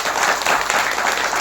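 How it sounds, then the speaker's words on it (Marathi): Audience clapping steadily and fairly loudly at a devotional Bhagavat Katha discourse, a continuous wash of many hands with no voices over it. "एकदा टाळ्या वाजवा."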